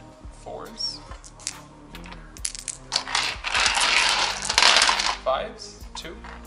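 Dice clatter across a tabletop during an Age of Sigmar wargame, a rattling burst of small plastic cubes tumbling and settling, with a voice talking faintly around it.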